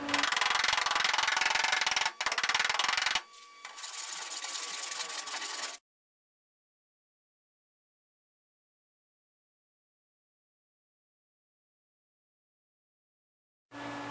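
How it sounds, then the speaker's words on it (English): Body filler on a car panel is block sanded with 320 grit sandpaper, giving a loud, steady scratchy rubbing for several seconds that pauses briefly and then trails off into silence. "we'll block over this again with some 320 grit sandpaper"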